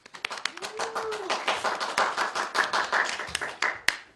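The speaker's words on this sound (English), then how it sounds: "Round of applause," Sparse, scattered clapping from a small group, with a voice briefly audible over the claps.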